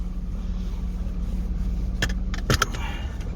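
A Jaguar car easing away in drive while towing a classic caravan at a farm campsite, a steady low engine hum and rumble throughout with a few brief clicks and knocks near the end.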